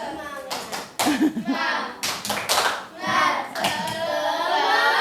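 A school class of children claps a rhythmic cheering clap pattern in bursts, mixed with children's voices calling out between the claps.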